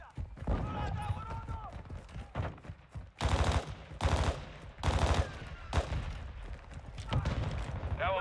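Bursts of automatic gunfire in Call of Duty Modern Warfare 2 (2022), with loud dense volleys around the middle and further shots through the rest, while a player talks over the action.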